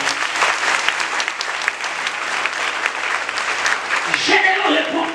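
A church congregation claps in sustained, dense applause that carries on throughout, with voices mixed in and a speaker rising over the clapping near the end.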